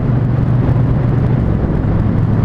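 A Triumph Bonneville Speedmaster motorcycle cruises in sixth gear at about 2500 rpm, its engine a steady, loud, low rumble throughout with no clear break for the shift.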